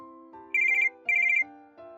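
A phone ringtone at a home late at night plays a loud synthetic melodic tune, alone, with two bright bursts of repeating notes over sustained tones.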